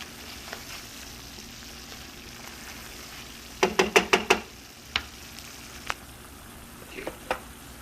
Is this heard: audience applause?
no